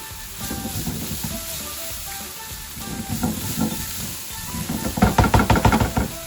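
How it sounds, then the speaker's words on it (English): Eggplant sizzles steadily in hot oil for Turkish imam bayildi, with a spatula stirring and tapping rhythmically against the pan near the end. "we have the eggplant which is frying here"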